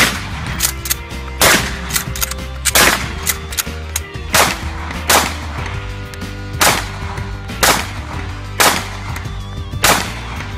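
A rifle is sighted in at a shooting range before hog hunting, firing about ten loud, sharp cracks at fairly regular intervals over a steady low background hum.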